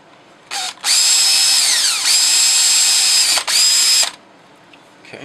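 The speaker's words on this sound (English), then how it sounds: "drill a couple of holes in there" A power drill bores 1/8-inch holes for pop rivets while a patio light is repaired, two loud, close whining runs with pitch sliding as the bit cuts, separated by a brief pause, then quiet.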